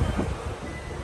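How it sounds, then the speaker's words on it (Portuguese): Wind buffets the microphone outdoors beside a city avenue, a brief, steady low rumbling roar with no voices. "O vento aqui sempre tem, velho."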